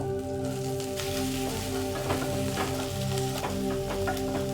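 Thinly sliced onion, slit green chillies and grated beans fry in hot oil for veg fried rice, making a steady, moderate crackling sizzle with a faint background hum.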